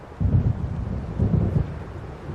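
Rolling thunder from a thunderstorm in the video game Alan Wake Remastered, two deep, loud rumbling swells in quick succession over a steady low storm backdrop, with no voices.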